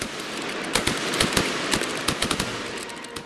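Rapid rifle fire, a dense run of sharp cracking shots in quick irregular bursts over steady background noise, no talk.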